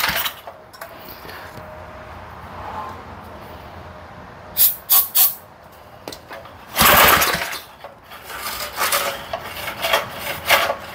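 Pulls on the recoil starter of a 1970s Massey Ferguson 253 rototiller, heard as loud close scraping, ratcheting rasps in several bursts, one longer pull among them, against a quiet outdoor background.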